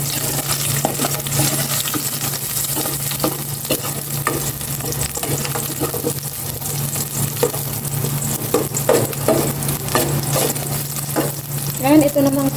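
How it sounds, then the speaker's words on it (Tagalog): Garlic sizzles in olive oil in a pan, a steady close crackle and hiss with a constant hum beneath, broken by repeated scraping stirs of a utensil, with no talking. "Gisa ko na rin itong kapiranggot na bawang."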